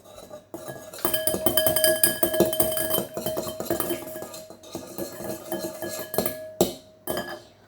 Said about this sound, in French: vous mélangez jusqu'à que l'œuf soit bien fait, jusqu'à que l'œuf soit bien mélangé